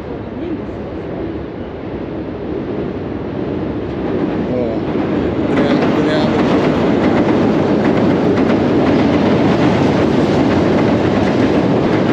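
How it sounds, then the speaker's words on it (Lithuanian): A train rumbles past close by on a bridge, a steady loud roar with rhythmic clatter of wheels that swells and stays strong throughout. "Parvažiuoja traukinys."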